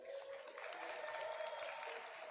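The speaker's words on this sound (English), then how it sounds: "Please, a big round of applause for all of our funders and supporters." Sustained applause from an audience at the opening program of a cultural center event, a steady, even wash of clapping heard from a distance at low level, with no talk.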